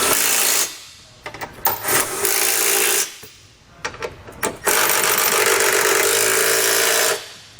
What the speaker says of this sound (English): we can go back and tighten them down with a 19mm socket